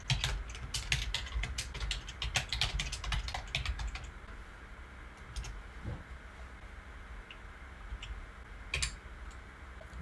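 A command is typed on a computer keyboard during a Cisco UCCX 12.5 software setup: a dense, fast run of crisp key clicks for about four seconds, then a few sparse, isolated taps over a quiet room hum.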